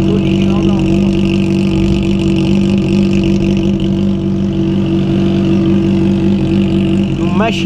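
A Honda CBR 600RR motorcycle fitted with an Atalla aftermarket exhaust rumbles loud and close at steady idle with slight rev swells, a continuous deep engine drone with talk over it.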